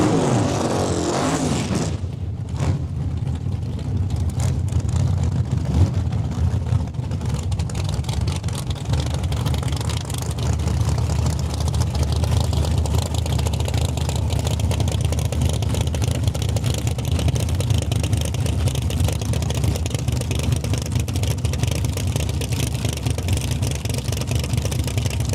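Drag racing cars, a Roadster and a Falcon, launch down the strip at Saskatchewan International Raceway, an abrupt loud burst of engine noise giving way to a long, sustained, far-off roar and rumble.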